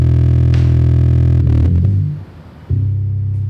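A bass line from a hip-hop beat plays on its own, a loud deep sustained low tone that drops out briefly and wobbles before the heavy bass returns.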